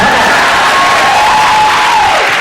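A loud convention crowd at a celebrity Q&A panel roars with applause and cheering, a dense, continuous wash of clapping and whoops.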